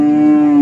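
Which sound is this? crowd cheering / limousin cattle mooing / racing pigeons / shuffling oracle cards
limousin cattle mooing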